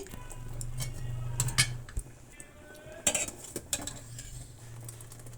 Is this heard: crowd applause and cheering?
no